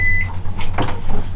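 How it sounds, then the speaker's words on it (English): A microwave oven running on inverter power switches on in a close, brief burst: a sharp click or clunk followed by a steady low hum, with a faint high whine fading early. "We're gonna try the microwave out at Anchor because the inverter's in now."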